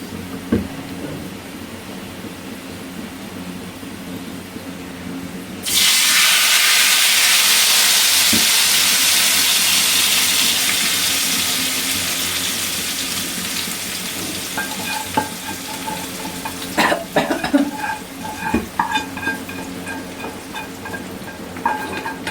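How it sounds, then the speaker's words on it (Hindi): A hot tadka of tempered spices is poured into tomato chutney, setting off a sudden loud sizzle that hisses steadily and slowly fades, followed by lighter crackles and stirring clinks near the end. "तो हमारा तड़का जो है वो रेडी हो गया है। हम जो है इसे लगा देते हैं।"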